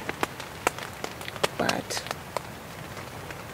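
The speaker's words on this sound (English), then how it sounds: "it's started raining a little bit. I think you can hear it, maybe." Light rain on a tent on the stormy Maine coast, heard as sparse, faint pattering drops ticking on the fabric under a man's close, quiet voice.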